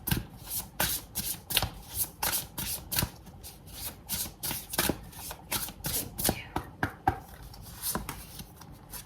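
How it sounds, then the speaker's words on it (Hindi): Tarot cards being shuffled by hand, a rapid series of crisp riffling bursts repeating in quick rhythm close to the microphone, with no talking over them. "एक बार और शफल करूंगी"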